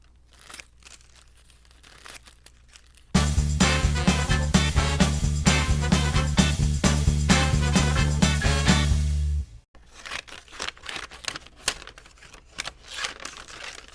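Tissue paper is crinkled up by hand: a loud, dense burst of crackling and rustling runs for several seconds, bracketed by quieter scattered rustles.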